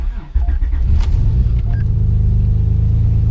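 Turbocharged J32 Honda Accord engine cranks briefly and catches, settling into a loud, steady, rumbling idle that carries on to the end.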